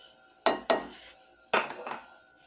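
Corn tumbles into a bowl while a macaroni salad is being made, giving a few sharp clinks and clatters against the dish. Two quick knocks come close together, then a short rattling cluster after a pause.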